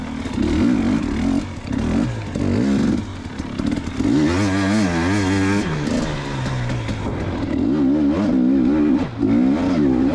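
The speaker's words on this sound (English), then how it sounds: "First ride on a brand new FMF pipe, FMF fatty. Sounds so good. Bike pulls so strong." A 2019 KTM 250XC two-stroke dirt bike fitted with a new FMF Fatty exhaust rides on a snowy trail, its loud, raspy engine revving up and down through repeated throttle bursts, close by, with no voices.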